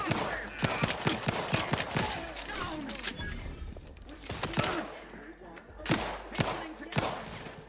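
Rapid bursts of gunfire in a space-set, Fallout-style video game crackle through most of the span, sharp shots clustered in volleys with brief lulls between, loud and close.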